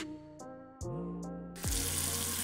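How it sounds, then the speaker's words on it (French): Water pouring from a tap in a video game house, a steady close hiss of running water that swells louder near the end, layered over game tones and soft chimes, with no talking. "On dirait un robinet pour le jus de baie."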